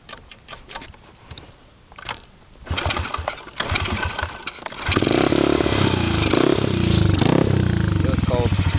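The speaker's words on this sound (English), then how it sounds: "And turn the gas on, and I'm gonna start it up." Engine of a 2007 Honda CRF50F pit bike, cold, started after faint clicks and handling noises, then settling into a steady loud idle close by.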